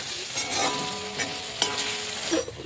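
Turmeric, chilli and coriander powders with asafoetida are stirred in hot oil for a chilli pickle, with a soft continuous sizzle and a few light spoon scrapes and taps against the pan, close and without speech.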